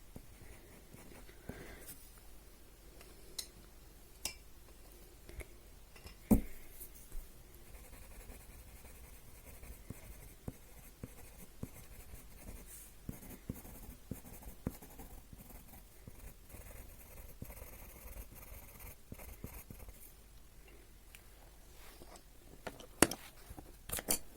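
Colored pencil strokes scratching across paper while a small bird is drawn, light and dark hatching lines laid down in quiet, steady bursts with occasional sharper taps, close and fairly faint.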